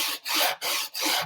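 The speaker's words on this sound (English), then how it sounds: "Even with the 80 grit sandpaper, you're only going to be able to be sanding off a little bit at a time." Hand sanding the edge of a wooden clock with 80 grit sandpaper: three long, even rasping strokes with brief pauses between them, close up and with no voices.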